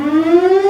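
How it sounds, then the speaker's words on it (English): Civil defense siren that sounds daily at noon, a loud steady wail slowly rising in pitch, heard alone for under a second. "There's the dumb siren."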